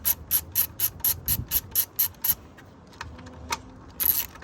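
A ratchet clicks in a rapid, regular run while backing out a 10mm bolt on a 2013 Hyundai Sonata GLS 2.4L engine, close and crisp, then falls quiet with a short final burst.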